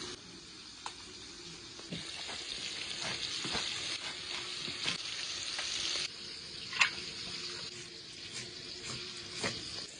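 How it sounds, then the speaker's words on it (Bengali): Steady sizzle of rohu fish frying in oil with scattered pops and clinks of utensils, close by, no talking. "ওদিকে মাছটা ভাজা হচ্ছে"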